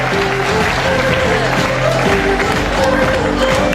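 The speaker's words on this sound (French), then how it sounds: "Merci de les applaudir" Guests at the Miss Somme 2018 pageant applaud the event's partners as they come up on stage. The sustained, dense clapping carries on throughout, with music playing faintly underneath.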